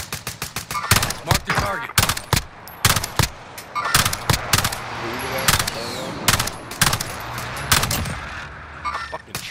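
Rapid bursts of automatic gunfire and single shots crack repeatedly in a shooter video game firefight, loud and close, while players talk over the shooting.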